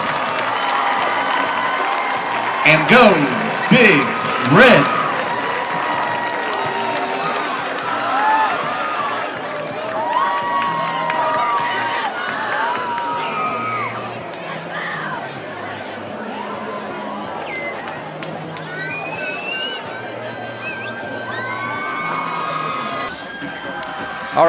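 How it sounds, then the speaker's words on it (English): Crowd at a high school football homecoming cheering, clapping and chattering in a stadium, with a few louder whoops early on and a person speaking briefly over the steady background roar. "Let's give all these ladies a round of applause."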